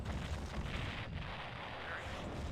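Fuel drums blow up in the Command & Conquer Red Alert video game, giving a dense, rumbling explosion with heavy low-end booms rolling on without a break, fairly quiet overall.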